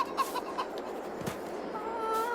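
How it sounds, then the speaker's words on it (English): Several chickens in Farming Simulator 22 cluck and chatter in short, soft bursts over a steady ambient bed, with a few brief higher calls toward the end. "some chickens up in here."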